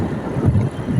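Wind rushing past a moving vehicle on a road trip through countryside rice fields, a steady low buffeting roar that stays loud and continuous, with no talk.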